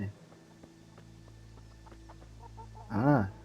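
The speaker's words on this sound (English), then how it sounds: "Feed chicken." Chickens in the medieval video game Kingdom Come Deliverance give a short burst of clucking near the end, rising briefly above a quiet game ambience with faint knocks and tones.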